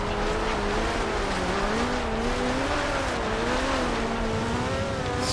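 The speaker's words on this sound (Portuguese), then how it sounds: "Nossa, o carro derrapa demais" A car skids and drifts in Forza Horizon 2, its tires squealing in long wavering tones over a loud, continuous engine roar that lasts several seconds with no talk.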